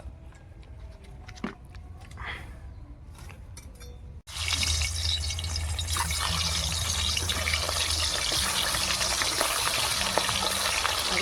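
Fish rubbed with salt and turmeric hit hot white oil in a wok, and after a quiet few seconds a loud, crackling sizzle erupts and keeps hissing steadily to the end.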